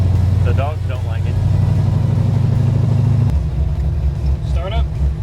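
A 1971 Chevrolet Camaro resto mod runs close by with a loud, deep, steady engine rumble. The rumble shifts to a lower, choppier idle partway through, and brief chirping sounds rise above it.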